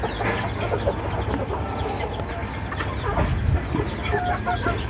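Native labuyo jungle fowl chickens cluck in a backyard poultry setting, with repeated short clucks and calls over a constant hiss of outdoor background noise.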